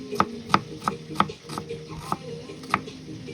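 A knife chops onions on a cutting board, striking in a steady series of about eight crisp, close knocks roughly a third of a second apart, with faint background noise and no talking.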